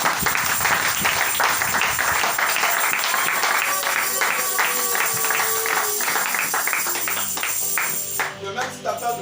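Congregation clapping in rhythm during a lively church service, steady repeated claps filling the room with voices and music underneath.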